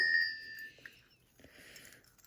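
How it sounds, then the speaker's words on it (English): Small metal bells, bought to be strung on jute twine for Christmas decorating, give a bright ring that rings out and fades, followed by faint jingling and rustling as they are handled. "So I got these bells from Amazon last year, and I'm just going to take some jute and string it through"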